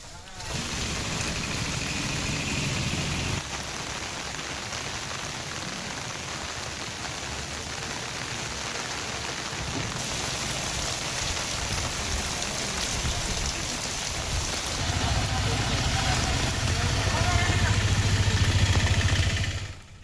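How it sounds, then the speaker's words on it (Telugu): Heavy rain pours down in Tirupati as a dense, unbroken roar that holds steady and loud for about twenty seconds, with a low engine-like rumble underneath at times. "తిరుపతిలో భారీ వర్షం పడుతుంది"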